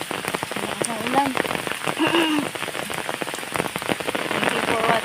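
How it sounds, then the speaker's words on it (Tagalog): Heavy rain pours steadily, a dense patter of drops drumming on a surface throughout, with a few brief higher sounds poking through the downpour. "Malakas ang ulan."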